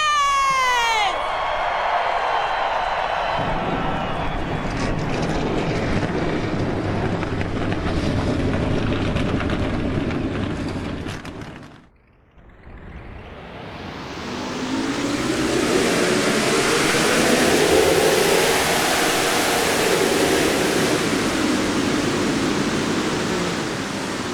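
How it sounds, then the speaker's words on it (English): Race car engines roar in the NR2003 racing game at Michigan, a dense, sustained rumbling drone that drops out briefly midway before a field of engines swells back in, loud and continuous throughout. "Drivers, start your engines!"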